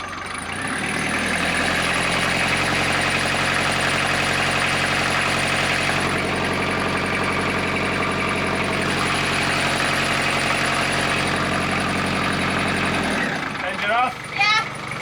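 A freshly serviced narrowboat diesel engine runs steadily under load with a deep, throbbing mid-range drone and faint rattles, then cuts off near the end, leaving brief voices.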